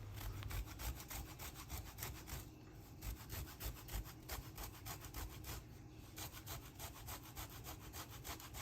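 Lemon zest grated against a grater for a king cake batter, a steady rapid rasping scrape that repeats continuously at close range with no voices.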